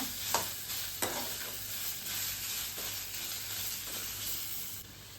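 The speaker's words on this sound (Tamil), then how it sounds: "வெங்காயம் பாதி வதங்கிருச்சுங்க. அதுக்கப்புறம் தக்காளி போட்டு வதக்கிக்கலாங்க." Onion and tomato sautéing in a pan for chutney: soft continuous sizzling and hiss with a few brief scraping stirs of a spoon, fairly quiet and close.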